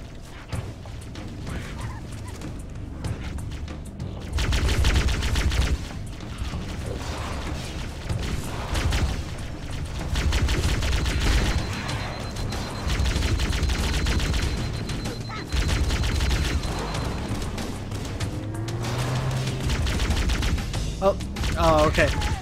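Gunfire rattles in the video game Halo CE during a Flood level, coming in several sustained bursts separated by lulls, with mechanical game sounds underneath.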